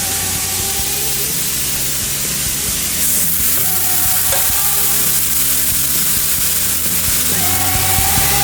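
Steak frying in a skillet sends out a loud, continuous hiss and crackle of sizzling fat, with a hot, dense sound and no voices.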